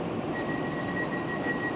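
Trains at Circular Quay station in Sydney give off a steady low rumble of rail noise, with a thin high whine holding for about a second in the middle and no one talking.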